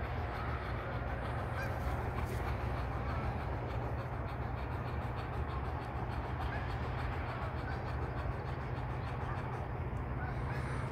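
A flock of geese honking continuously in the distance over a field, above a steady low rumble, with overlapping calls blending together.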